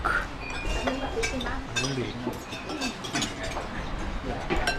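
Metal spoons clink against a dish while snail curry with rice is eaten in a Thai restaurant, with scattered light taps and scrapes under background voices.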